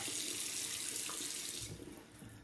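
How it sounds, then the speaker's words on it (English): Tap water runs steadily into a West Coast Shaving unbreakable lather bowl while water is added to thick shaving cream, a close, constant splashing stream that tapers off near the end. "I'm going to add some more water."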